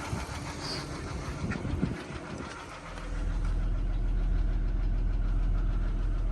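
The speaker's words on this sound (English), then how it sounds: "It's not the healthiest motor by the sounds of things, but we got it started." A 2008 Ford BF MK2.5 Falcon's Barra six-cylinder, once seized, idles roughly and ticks just after starting, a steady close mechanical rumble that swells louder partway through and holds.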